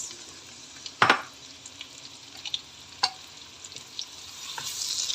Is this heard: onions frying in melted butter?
yes